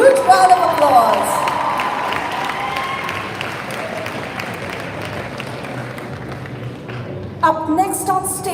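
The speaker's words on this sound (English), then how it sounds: "Let's give Miss Priya Vinod a huge round of applause." An audience at a school prize day for grades 10 and 12 applauds a physics teacher, the clapping loudest at first and then fading to a steady, distant patter, with a presenter speaking at the start and end.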